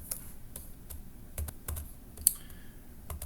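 Keystrokes on a computer keyboard entering a command in MATLAB, a string of sharp separate clicks in an irregular rhythm, fairly close and quiet with no voice.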